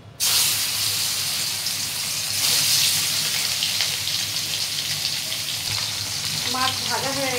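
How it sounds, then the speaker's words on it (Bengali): Fish pieces frying in hot oil in a home kitchen: a loud, continuous close-up sizzle with crackling spatter throughout, briefly swelling midway and joined near the end by a short scraping, bubbling burst as the pieces are moved. "মাছ ভাজা হয়ে গেছে,"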